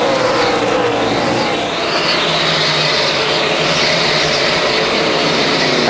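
NASCAR stock cars roar along the racetrack in the 2004 Checker Auto Parts 500, a loud, steady engine drone with a rising and falling pitch as the pack pulls away.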